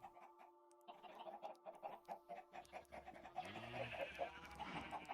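Chicken clucking in a farming video game, soft short clucks repeating over quiet game music, with a faint breathy panting layer joining toward the end.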